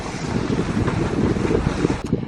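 Strong 20 to 25 knot wind roaring across a deeply reefed sailboat under way at sea, a loud, dense, steady rush buffeting the microphone with water noise beneath.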